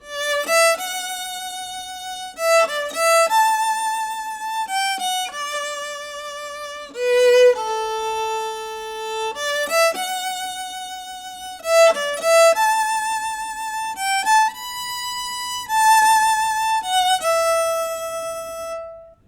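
A bright violin plays a flowing melody alone, the introduction of the Titanic theme, phrases rising and falling with sustained notes and short pauses between passages.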